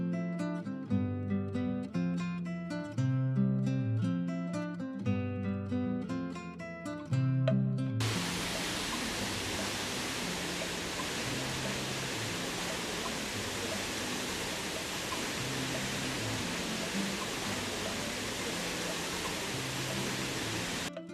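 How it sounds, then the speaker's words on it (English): Roaring rush of water at the first waterfall of Sipi Falls on Mount Elgon, a dense constant wash filling the last two-thirds after a stretch of music, loud and unbroken. "Right now, we are in the first waterfall, one of the second highest waterfall among the 3 waterfalls in Sipi Falls"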